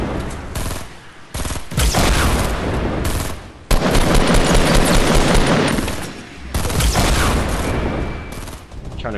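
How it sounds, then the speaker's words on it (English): Loud, dense bursts of rapid gunfire and shots from a shooting video game battle at Retail Row, sustained across most of the stretch with brief lulls between volleys. "They're shooting me now."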